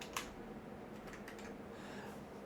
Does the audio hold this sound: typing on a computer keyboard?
yes